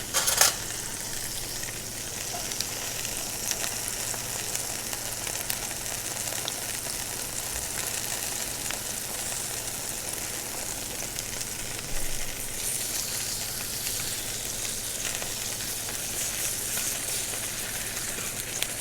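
Morel mushrooms fry in a slightly cooler pan in a restaurant kitchen, a soft, continuous sizzle that stays even and close for the whole stretch.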